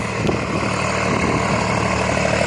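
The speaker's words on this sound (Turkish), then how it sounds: "Traktörler çalışıyor." Tractors running in the village of Radanya, Macedonia, giving a steady, loud engine drone with a low idling throb that continues without a break and without speech.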